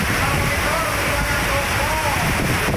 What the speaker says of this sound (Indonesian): ambruk diterpa hujan deras dan angin kencang